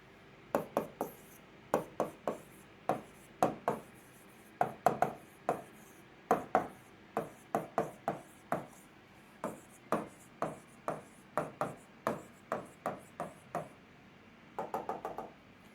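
A teacher writing a sentence on a classroom board, heard as a close, steady run of sharp taps and short strokes in quick bursts, with brief pauses and no voices.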